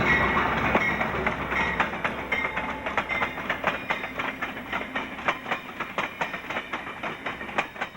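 An Amtrak passenger train rolls along rails on a run to Brunswick, Maine, with a steady low rumble and a rhythmic clickety-clack of wheels over rail joints that grows more distinct as it passes nearby.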